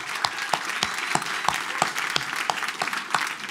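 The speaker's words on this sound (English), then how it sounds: "give one more round of applause" Audience applause at the Ippies Awards 2015 ceremony, a steady, dense wash of clapping hands with sharper individual claps standing out, sustained and fairly close throughout.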